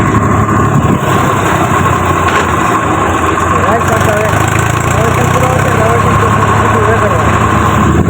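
A tractor engine runs steadily and loudly close by, a constant idling drone with a rough mechanical texture throughout.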